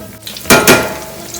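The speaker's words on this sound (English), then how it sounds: "we're gonna let them fry up a little bit" Eggplant frying in a pan, a low sizzling hiss under two sharp, bright utensil clatters in quick succession, close and loud.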